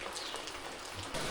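Heavy monsoon rain falls in the Konkan countryside as a steady, dense patter of drops on surfaces, moderately quiet and continuous, with no voices.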